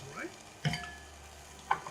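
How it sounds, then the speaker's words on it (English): Asparagus stirred with salt and pepper in an oven-safe pot, a few brief soft scrapes and clinks over a faint sizzle, quiet and close. "We're just going to give this a stir."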